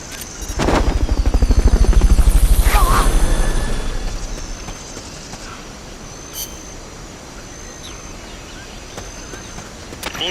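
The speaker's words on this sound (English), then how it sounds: "Fulton recovery helicopter is complete." A Fulton recovery helicopter in Metal Gear Solid: Peace Walker swells loudly and close with thumping rotors, then fades away, leaving a low rumble and faint scattered effects.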